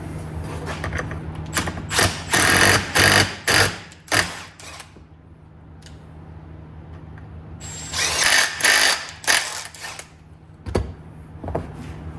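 Hand-tapping a 1/8 inch pipe thread into a drilled hole in a GMC gives off bursts of close metallic grinding and ratcheting scrapes, coming in two clusters with quieter clicks and rustles in between.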